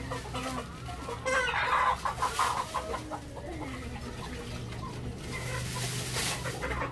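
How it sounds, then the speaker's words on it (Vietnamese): Several chickens cluck and squawk up close, with a burst of louder agitated clucking early on and a constant low rumble of a busy market near Sapa underneath. "bắt thêm con gà nữa đi"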